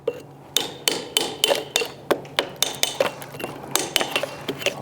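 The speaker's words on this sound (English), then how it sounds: "You can either use the chisel like you see I'm using it here" Steady, sharp metallic hammer strikes on a chisel knocking out bricks, about three per second, ringing close and loud with a slight clink after each blow.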